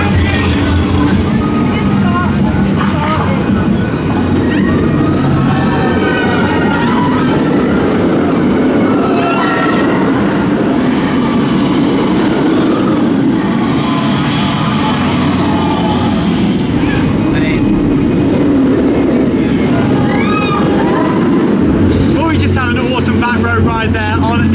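A ride on the Nemesis Reborn roller coaster at Alton Towers: a steady loud rumble and rattle of the train on track, with wind roar and crowd chatter and voices mixed in throughout.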